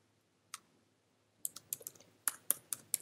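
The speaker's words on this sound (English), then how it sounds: "so I type in the text I want to use" Someone types on a computer keyboard: a single click, a pause, then a quick burst of crisp, close keystrokes in an uneven rhythm against near silence.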